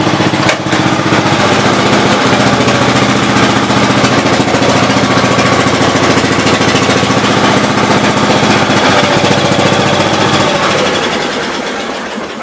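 A 1982 Gravely 8163-B garden tractor engine with a leaking carburetor idles roughly up close, a loud, steady, uneven chug that runs unbroken before easing slightly in the final seconds.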